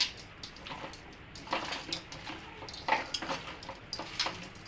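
Chicken pickle with ginger garlic paste and a lemon piece being mixed in a pot, quiet irregular scrapes and clinks of a spoon against metal, close and alone.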